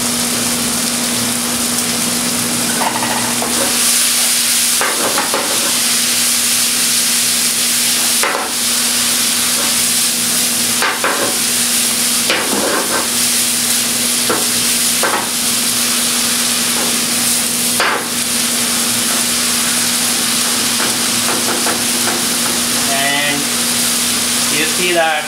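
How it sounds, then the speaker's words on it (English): Onion and tomato masala cooks in a pan for an Indian curry base, a steady broadband sizzle running throughout with a constant hum underneath and occasional stirring clicks. "You see that the tomatoes are breaking now, they are cooking, so we have to cook like a few seconds more."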